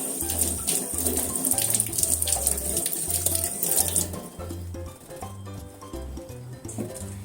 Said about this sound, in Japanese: ピーマンは洗って切ります。